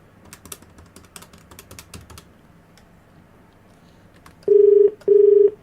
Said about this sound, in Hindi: फ़ोन मिला दो।